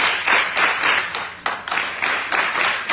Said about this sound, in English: We are going to give him the gender clap.